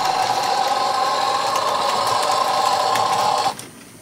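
Rapido HO scale model Alco PA locomotive in D&H livery running on track, a steady buzzing motor whir with light rhythmic clicking, close and loud, stopping abruptly near the end.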